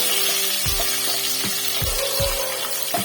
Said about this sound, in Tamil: இது நல்லா வதக்கிட்டு அந்த பூண்டு பச்சை வாசம் போகணும், அது வரைக்கும் வதக்குங்க.